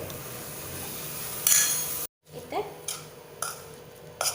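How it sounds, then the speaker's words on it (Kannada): Carrots being stirred into a tempering in a pan for carrot pickle. A spoon scrapes and clinks against the pan in a few separate strokes, close up, with a short silent gap partway through. "ಇತ್ತೆ ಒಗ್ಗರಣೆ ಚೌಲಿ ಆದ ಕ್ಯಾರೆಟ್ ಪಾಡ್ದು ಫುಲ್ ಮಿಕ್ಸ್ ಮಾಡ್ತೀನಿ ನಾನು."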